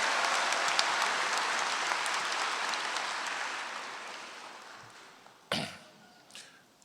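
Ceremony audience applauding student award winners at a college hooding event, a full dense round of clapping that slowly tapers off, followed by a couple of loud sharp knocks or coughs.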